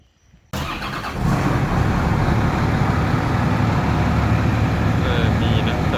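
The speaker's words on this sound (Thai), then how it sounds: "ก็เดี๋ยวรอมาติดเครื่องกัน" The engine of a Backhus compost turner starts abruptly after a brief quiet moment, then settles into a loud, steady running rumble close by. Voices can be heard faintly under the engine noise.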